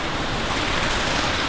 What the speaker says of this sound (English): Pretty cool waterfall back here.